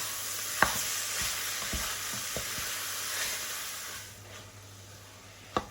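Beef or pork ragout meat sizzles in a pan as it is stirred with the other ingredients, the steady hiss broken by scattered scraping knocks of a utensil, with no talk.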